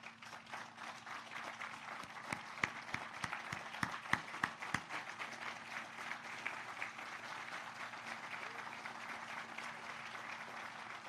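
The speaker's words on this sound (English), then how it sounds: "please stand for a round of applause" An audience applauds HIV prevention workers in LA County, a soft, fairly distant patter of clapping with a run of sharper, closer individual claps in the middle, and no one talking.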